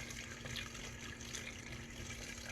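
Water runs steadily into a container while making homemade cherry mead, a faint continuous gushing fill with a constant low hum beneath it.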